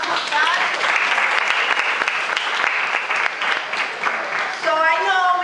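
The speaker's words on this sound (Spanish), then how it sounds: "Un aplauso" A congregation at a church youth gathering breaks into loud, sustained applause, a full wash of clapping that carries on steadily, with a voice rising briefly near the end.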